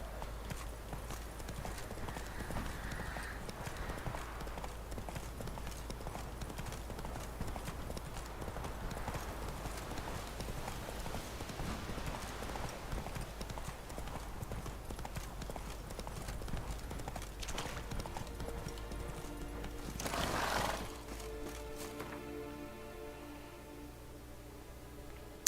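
Roach, Geralt's horse in The Witcher 3, gallops with continuous rhythmic hoofbeats over a low game soundscape, and a brief louder burst comes near the end.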